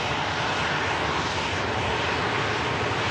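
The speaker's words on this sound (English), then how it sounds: "It's a military aircraft, commonly used by military airframe, the Herc." A Canadian Air Force Hercules military propeller aircraft arriving at Manchester airport gives a loud, steady, broadband engine roar that fills the whole stretch with no pauses and no voices.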